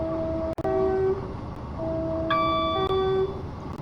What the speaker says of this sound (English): I love to mess with horns on trains